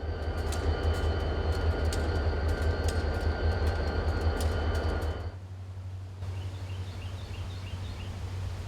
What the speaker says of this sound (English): the Mounting Limited was powered by a pair of former Conrail GP30 locos dating from the early 60s